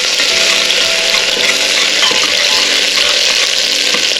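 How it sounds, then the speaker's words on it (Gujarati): Loud, continuous sizzling of ginger, garlic and green chili paste frying in hot oil, close up, with occasional clinks of a utensil against the pan. "હવે આપણે એમાં આદુ લસણ અને મરચાંની પેસ્ટ ઉમેરી દઈએ અને એને 1 મિનિટ આપણે સાંતળી લઈએ"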